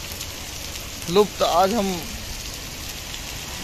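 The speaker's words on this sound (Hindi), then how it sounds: "इस कड़कड़ाती गर्मी में आज जबरदस्त बरसात हुई है" Heavy rain with hail falls during a hot-season storm in Faridabad, a steady broadband hiss of downpour throughout, with someone speaking briefly over it near the middle.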